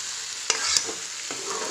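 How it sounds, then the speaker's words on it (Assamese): Pumpkin pieces fry in oil with potatoes and spices, a close sizzle punctuated by two sharp spatula scrapes and clacks as the pan is stirred. "এতিয়া অকণমান ভাজি লওঁ ৰঙালাওখিনি"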